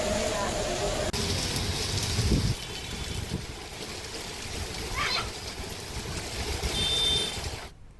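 Continuous heavy rain in Hyderabad patters and hisses throughout, with a few brief mewing or squeaky sounds and a passing thump over the downpour.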